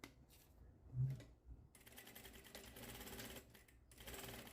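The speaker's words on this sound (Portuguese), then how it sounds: "eu vou costurar aqui com meio centímetro" A sewing machine stitches a half-centimetre seam on a cropped top, giving a close, steady mechanical whirring in bursts separated by short pauses, with a faint knock between runs.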